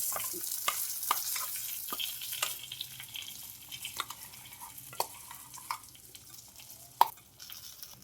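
Ground tamarind-leaf paste is stirred into a hot tempering with curry leaves and asafoetida, giving a quiet, steady sizzle broken by sharp clicks and scrapes of a spoon against the pan.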